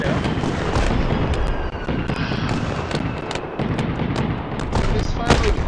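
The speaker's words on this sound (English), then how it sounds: "This firework display is really something else." Fireworks in the video game Fireworks Mania crackle and pop continuously in a dense, loud barrage of rapid bursts with no break, under a faint voice.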